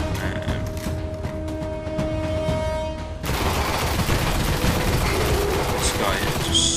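Gunfire in the video game Destiny, with a steady machine-gun rattle that gives way to a louder, denser barrage of shots and impacts, and a voice talking over it.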